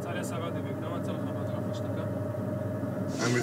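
Truck engine noise lowered by an active noise cancellation system, a steady low droning rumble that fills the clip evenly with little change, with faint voice-like traces.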